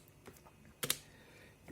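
A few quiet keystrokes on a Womier K87 TKL keyboard fitted with Kailh Box Silent Brown tactile switches, with one clearer double tap standing out against faint background hiss.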